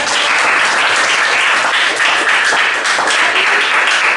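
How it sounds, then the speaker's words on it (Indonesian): Classroom applause from students during a school lesson: dense, steady clapping fills the whole stretch at close range, with no voices over it. "tepuk tangan dulu buat."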